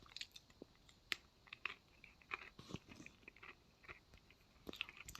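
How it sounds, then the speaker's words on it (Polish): Someone crunching on a snack close to the microphone while playing a game, with quiet, irregular crisp bites and chewing crunches repeating throughout, faint but distinct, with no talking. "Tak właśnie coś jem, widzowie. Więc jeśli słyszycie takie chrupanie, po prostu coś muszę przegryźć, bo jestem strasznie głodny"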